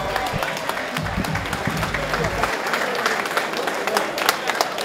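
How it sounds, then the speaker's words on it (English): Crowd applause for two fighters after a combat-sports bout, a steady wash of clapping and cheering with an announcer's voice over it during the first half. "Ladies and gentlemen, have a round of applause for these fighters."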